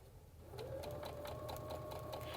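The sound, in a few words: Baby Lock sewing machine stitching with clear quilting foot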